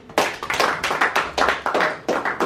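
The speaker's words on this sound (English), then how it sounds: "Big round of applause for everybody." An audience at a speech and panel discussion event claps in loud, close bursts that swell and fade several times in a row, with brief dips between the waves of clapping.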